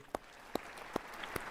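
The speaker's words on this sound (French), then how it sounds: "Je vous prie de l'applaudir" Applause for a speaker at an African Union summit: four slow, evenly spaced claps, faint and sharp, over quiet room tone with no talk.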